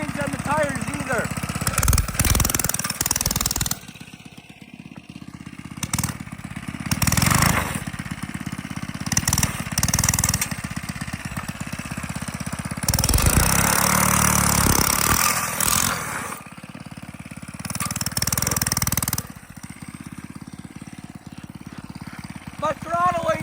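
A mini bike's small engine is cold started and runs roughly outdoors in snow, its rattling drone rising and falling with the throttle while a person talks over it.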